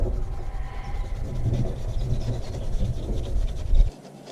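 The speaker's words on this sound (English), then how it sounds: "I use Scotch-Brite to clean the area." A Scotch-Brite pad scrubs around the oil filter housing of a 2008 BMW 328i E90, producing close, continuous rough rubbing and scratching that cuts off abruptly at the end.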